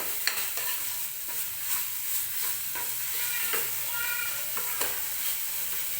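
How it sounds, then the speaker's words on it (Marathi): Onion-tomato masala for a gravy chicken dish sizzles steadily in a pan while a spoon stirs and scrapes through it, a continuous close frying hiss with repeated soft scraping strokes. "एक दोन मिनटं व्यवस्थित आपल्याला हा मसाला असाच भाजून घ्यायचा आहे"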